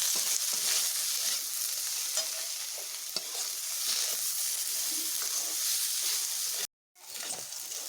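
Pan-frying with salt and turmeric mixed in, just before kharkol leaves are added, gives a steady close sizzle with stirring scrapes throughout and a brief drop to silence near the end.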